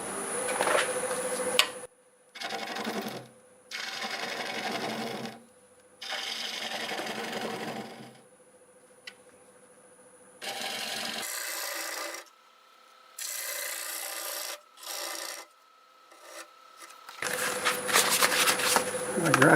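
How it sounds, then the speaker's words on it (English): A half-inch bowl gouge cuts hard olive wood on a lathe in repeated scraping, rasping passes of a few seconds each, separated by short pauses, loud and close, with a louder burst of cutting at the end. "I'm going to switch to a 1/2-inch bowl gouge for cutting that recess."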